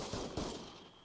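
Gunfire in the Arma 3 military video game: a dense, crackling wash of shots with a couple of stronger thumps, steady and moderately distant, with no voices over it.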